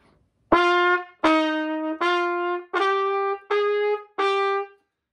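Six separate tenor saxophone notes, each cut short with distinct gaps of silence between them, played crisply and detached at a steady pace.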